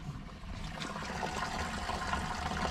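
Gasoline trickles and runs steadily from the fuel tank of a Ferrari 250 GTE into a bucket, a soft continuous pouring sound with a low background rumble.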